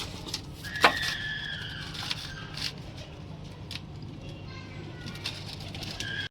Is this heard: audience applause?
no